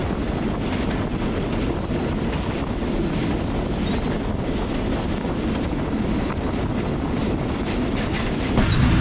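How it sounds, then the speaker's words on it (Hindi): A passenger train rolls on its rails into Rohri yard on a foggy winter morning, making a steady, loud rumble with faint clicking from the wheels and wind buffeting the microphone, with no voices. "तकरीबन ट्रेन रोडी यार्ड में दाखिल हो चुकी है"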